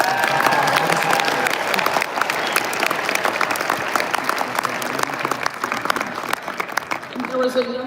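A large crowd at a presidential inauguration breaks into dense, sustained applause and cheering, loud and close throughout, with voices shouting and mixed into the clapping.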